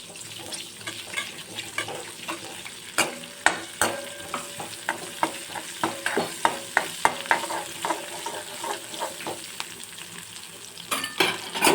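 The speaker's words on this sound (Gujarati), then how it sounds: "હવે આપણે બધા જ ખડા મસાલાને પહેલે સાંતળી લઈશું" Whole spices with curry leaves and green chili sauté in a pan under a soft sizzle, while a spatula knocks and scrapes in quick irregular strokes, louder toward the end. No talking.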